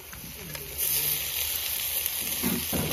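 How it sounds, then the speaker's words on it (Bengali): Chopped onion and tomato added to potatoes frying in a pan, giving a steady close hiss and sizzle with a few soft stirring knocks, growing slightly louder after the first second. "এবার ভালো করে একটু ভেজে নেবো।"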